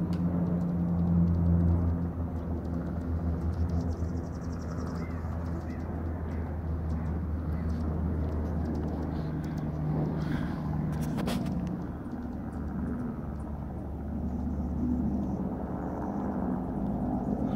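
A firefighting aircraft passes overhead during a wildfire, a low steady engine drone that swells and fades over a long stretch, with faint bird calls and distant background noise.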